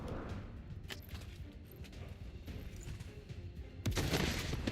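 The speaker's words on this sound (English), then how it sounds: "let's just shoot her in the face" Gunfire from the XCOM 40k Horus Heresy video game, a run of muffled shots under a continuous game soundscape, ending in a louder burst of blasts near the end, with no talking.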